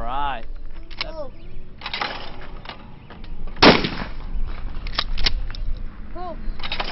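Shotgun blasts at clay targets outdoors, one sharp loud report standing out mid-clip with smaller pops around it, while people talk and call out over the shooting.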